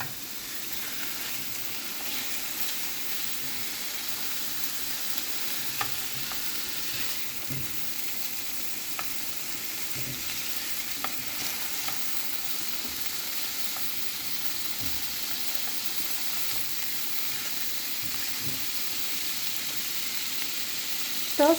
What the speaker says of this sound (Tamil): ஸோ இப்போ இந்த கோகனட் ஆயிலில் நல்லா ஃப்ராங்கீஸை சார்ட் பண்ணிகிட்ருக்காங்க.